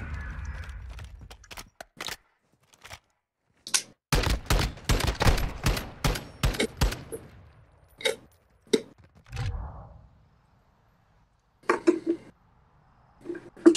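Gunfire in Call of Duty during a competitive match: sharp single shots and rapid bursts, loud and close, separated by silent gaps.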